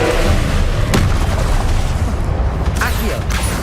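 A Confringo spell blast in Hogwarts Legacy: a loud, booming explosive burst with a rumbling low-end wash and a sharp crack near the end, surrounded by spell-combat noise.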